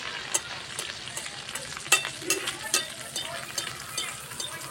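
Gur pitha batter frying in hot oil, with a steady sizzle and crackle and several sharper spattering pops as oil is ladled over the top, close and fairly quiet, with no talk.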